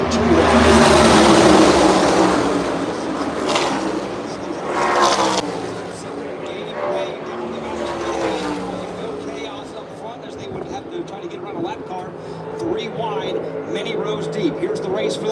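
NASCAR race cars, including Cole Custer's No. 41 Haas machine, roar around the track racing for the lead, engine noise loud at first and then steady under continuous commentary.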